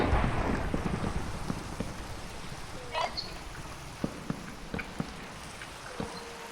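Rain and rolling thunder in the video game Minecraft, a steady hiss of rainfall with a few faint crackling rumbles, heard alone without talk.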